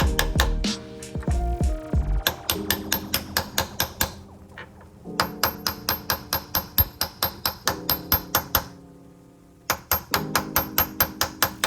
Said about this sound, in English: then hammer it on in there